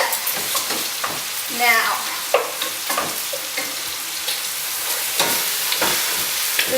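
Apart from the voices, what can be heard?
bolognese meat and bacon browning in a pan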